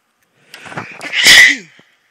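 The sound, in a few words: sneeze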